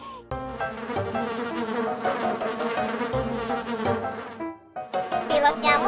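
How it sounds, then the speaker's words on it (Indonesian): A cartoon mosquito pilot makes a loud, continuous buzzing in a children's animation. The buzz sits over busy, bright background music and continues for several seconds with a short dip near the end. "Bunyi berdengung pilot nyamuk."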